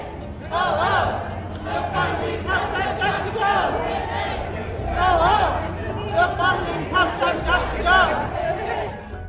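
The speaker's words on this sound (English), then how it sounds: "Chants echo through the streets as the crowd calls for stability in federal programs and criticizes Elon Musk's influence" A crowd of federal workers protesting in downtown Boston, many voices chanting together in rhythmic rising phrases, loud and continuous, with general crowd noise beneath.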